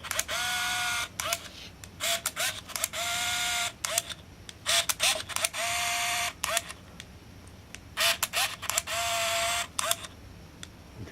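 An Olympus Infinity Stylus Epic camera advances film in short, repeated whirring motor bursts with brief gaps and clicks between, heard close up and alone.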